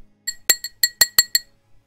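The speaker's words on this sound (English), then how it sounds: "there's something in a glass jar somewhere." Small object clinking against the inside of a glass jar, a run of about seven sharp, bright taps in an irregular rhythm, fairly close and alone with no talk.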